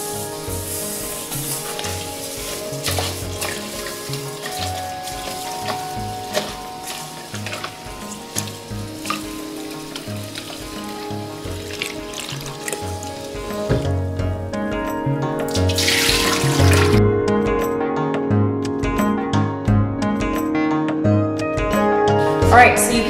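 Basmati rice being rinsed repeatedly in water for matsutake rice, running tap water and splashing in a sink under background music, the water growing louder and fuller in the later part.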